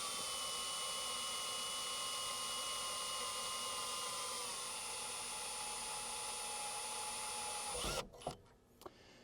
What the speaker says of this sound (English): We are drilling through a metal bracket here in the roof